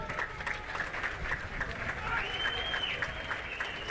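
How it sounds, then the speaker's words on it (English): Rugby players and supporters at a Morocco v Kenya Rugby Africa Gold Cup match applaud from a distance. The clapping is faint and steady, heard under a commentator's voice. "Great to see the applause from fellow players and the supporters here who came out to watch a game of rugby."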